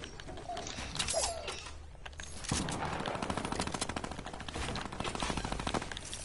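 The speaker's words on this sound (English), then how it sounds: "Oh, I like that shooting" Rapid bursts of gunfire from a PS4 video game, dense continuous shooting heard through the game audio at moderate loudness, with game noise filling the background and no talk.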